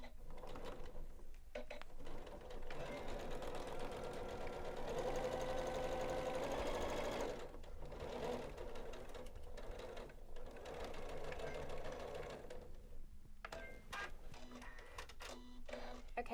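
A Janome sewing machine stitching raglan seams on a dress runs in a steady mechanical whir with a rapid needle rhythm, pausing briefly now and then before starting again.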